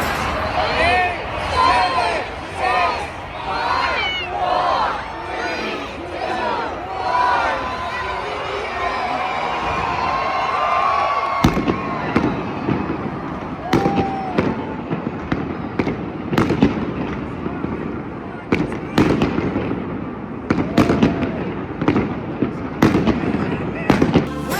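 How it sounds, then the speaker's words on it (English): New Year's Eve fireworks burst over Chicago in a long series of loud booms and crackles, irregular and overlapping, with a crowd cheering and people talking beneath the explosions. "Normally the fireworks last for like 15 minutes, so it should be good."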